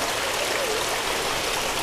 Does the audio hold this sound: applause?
no